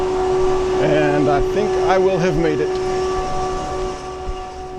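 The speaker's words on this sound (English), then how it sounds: "My single-car electric Onoda line train dates from the early 1980s" A single-car electric Onoda Line train from the early 1980s in Yamaguchi gives off a steady mechanical hum, with a wavering tonal whine that swells and fades partway through. Someone talks over it.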